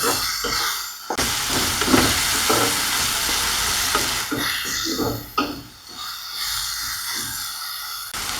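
Taki fish bhorta ingredients with onion paste frying in a hot pan, a loud continuous sizzle with irregular stirring and scraping strokes of a spoon close by, no talking.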